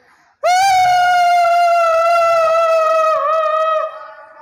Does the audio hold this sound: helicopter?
no